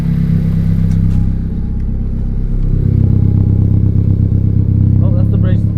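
Tenth-generation Honda Civic Si with a GReddy DD-R exhaust revving in a few pumps, a loud, deep, close engine rumble that rises and falls repeatedly with some clatter.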